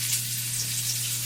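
Salmon sears in a hot pan, a steady close sizzle and crackle of frying that holds evenly throughout with a faint low hum underneath.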